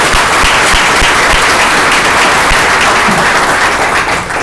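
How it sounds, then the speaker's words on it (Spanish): A conference audience bursts into loud, dense applause to welcome a speaker at a business event, the clapping sustained and even throughout with no talk over it. "Vamos a recibirlo con un fuerte aplauso."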